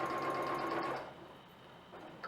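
A sewing machine runs steadily for about a second as it stitches along a seam without pins, then stops, leaving low background hum and a faint stir near the end.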